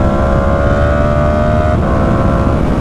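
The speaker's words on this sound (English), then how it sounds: "It's not as clean, especially on the downshifts here on the R1. The upshifts are pretty good." A Yamaha R1 liter-class sport motorcycle engine holds a loud, steady drone close to the microphone, with one brief stumble in tone as the quick shifter changes gear, under wind rush.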